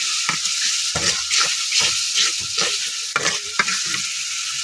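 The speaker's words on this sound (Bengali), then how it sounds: "আর এখানে দিয়ে দিচ্ছি মশলার গুঁড়ো সব কিছু মিলে রেখে অনেকটা ইয়ে করে নিচ্ছি কষিয়ে নিচ্ছি" Meat and ground spice masala, with chili powder, stirred and fried in a pan, a steady loud sizzle broken by repeated scraping strokes of the spoon, close up and with no talk.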